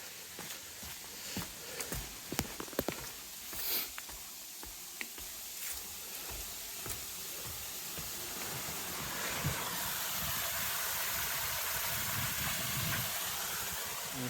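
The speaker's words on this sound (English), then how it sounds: "Coming up on another waterfall." Steady broadband rush of a waterfall along a Pictured Rocks National Lakeshore backpacking trail, swelling louder and denser in the second half, with scattered footsteps and rustling clicks early on.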